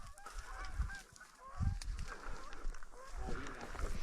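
Geese honk repeatedly at a distance during a duck hunt on prairie water, a busy chorus of overlapping calls with some low thumps and handling noise nearby.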